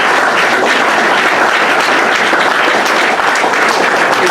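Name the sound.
applause for debate candidates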